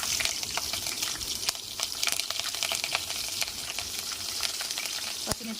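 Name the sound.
green chillies frying in hot oil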